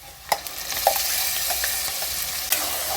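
Tomatoes frying in hot oil for North Karnataka tomato rice, with a steady close sizzle and several sharp scraping stirs of a spoon against the pan.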